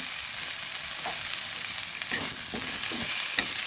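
Salt and turmeric are mixed into lentils, vegetables and oats for khichuri in a hot pan, giving an even close sizzle broken by several scraping stirs toward the end.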